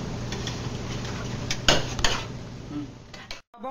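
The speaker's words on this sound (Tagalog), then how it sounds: "Habang kumukulo, haluin ito." Metal utensils scrape and clink against a boiling pot of vinegar and soy sauce in a busy kitchen, with a couple of sharper knocks partway through.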